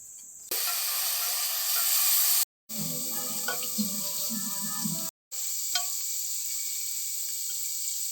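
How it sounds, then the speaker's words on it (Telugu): Tempering spices hit hot oil in a kadai while a brinjal masala curry is being cooked. There is a loud, steady sizzle and hiss, broken by short pauses and a few faint clinks of stirring. "ఇప్పుడు తాలింపు దినుసులు వేసుకుందాం."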